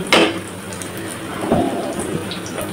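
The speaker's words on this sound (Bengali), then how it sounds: "প্রথমে আলুর চপ ভেজে নেই।" Potato chops (aloo chop) fry in hot oil with a steady, rain-like crackling sizzle, marked by a sharp louder burst at the start and another swell midway, close and without talk.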